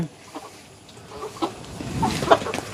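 Free-range chickens let loose near a home kitchen garden give a few short, soft clucks that grow a little louder toward the end, with faint background noise.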